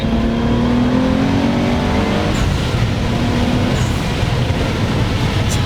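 A big-turbo Nissan 300ZX pulls hard, its engine droning loud and close with rising pitch, then it shifts and builds again, a steady roar with turbo whine over it and no talking.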